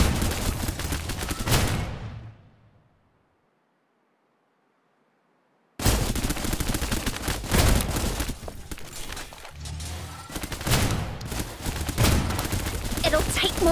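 Rapid bursts of suppressive gunfire in the Snowbreak shooter game, loud and dense with overlapping shots and impacts. The fire cuts out into a few seconds of silence, then resumes just as heavily, with voices occasionally heard.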